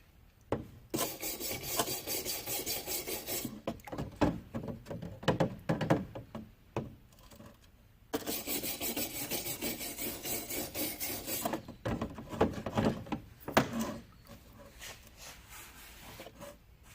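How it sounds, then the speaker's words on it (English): Rust and mill scale are scraped off steel in long, loud, raspy strokes that come in two extended runs, broken by short knocks and pauses, with no talking. "And that's just takes a little bit of scraping to get it off"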